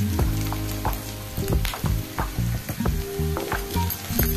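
Onion, garlic and green chili fry in hot oil in a close, loud sizzle, punctuated by rhythmic knocks and scrapes of a stirring spoon against the pan.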